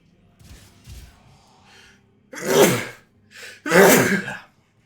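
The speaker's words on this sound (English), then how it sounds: "I don't know why I'm doing all this sneezing and coughing." A couple of forceful sneezes burst out close by after some quieter breathing and throat noises.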